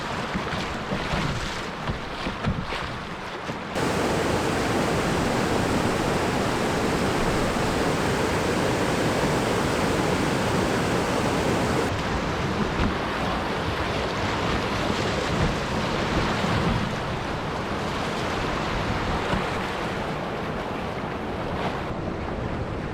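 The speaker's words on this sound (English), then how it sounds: "Graveyard Rapids." Whitewater rapids on a wild river roar in a dense, continuous rush of churning water, loud and close throughout with no voices over it.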